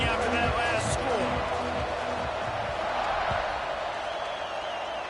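A college football stadium crowd in NCAA 26 keeps up a steady, dense buzz after a score, with a commentator talking over it and a brief whistle-like tone near the start.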